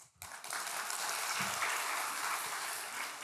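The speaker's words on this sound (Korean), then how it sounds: "박수 쳐주고" Steady applause from an audience in a church, a dense wash of clapping that starts abruptly and continues evenly to the end.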